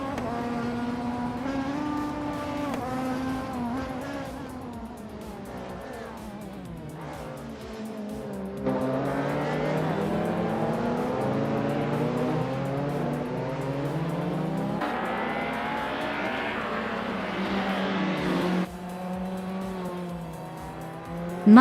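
Video game race cars, including a Volvo 850, race with whining, gear-shifting engines that rise and fall in pitch, alongside tire squeal and other cars roaring past, loud and continuous throughout.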